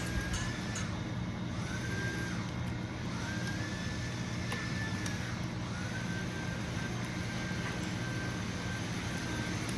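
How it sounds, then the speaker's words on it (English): A kitchen exhaust fan gives a steady, broad whirring hum that fills the space with a constant low drone, and faint high tones and clicks sit above it. "I'm sorry for the noise. I'm gonna have to turn off the fan when I record."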